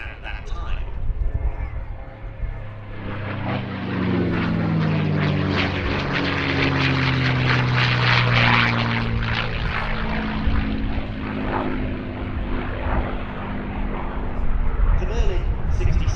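A P-51 Mustang with a Merlin engine flies past at an airshow, its propeller drone loud and sustained, swelling as it passes, with a steady low engine hum and voices talking underneath.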